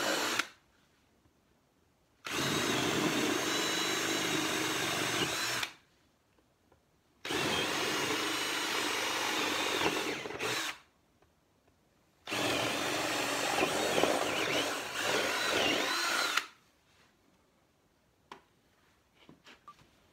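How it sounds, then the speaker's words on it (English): A power drill boring through the plywood panel of a locked antique safe, in three long loud bursts of steady whirring grind separated by short pauses, with faint handling noises at the end. "I didn't have my jigsaw with me, so I drilled through it with the drill."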